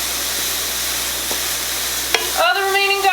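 Pork and pineapple for pineapple pork tacos sizzle steadily in a pan, a constant hiss that swells louder near the end as ingredients are stirred and tossed, with no talk over it.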